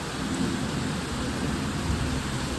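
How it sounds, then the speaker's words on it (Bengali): Steady heavy rain pours down with a deep rumble of thunder beneath it, a dense, continuous wash of sound with no voices. "ভালো লাগছে বৃষ্টিটা হচ্ছে"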